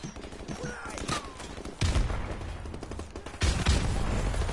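Gunfire bursts in a video game, with a muffled first stretch and then two heavy blasts of shotgun-like fire followed by rumbling echoes at close range.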